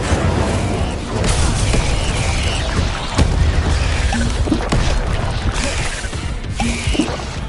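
Incendio fire spell in the Hogwarts Legacy video game, repeated booming blasts and crackling bursts amid continuous combat noise, loud and dense with several heavy impacts spread across the clip.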